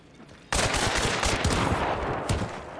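A chain pistol fires in a video game. After a short quiet moment, a dense, rapid stream of loud gunshots starts suddenly and keeps going without a break, with a few heavier bursts along the way.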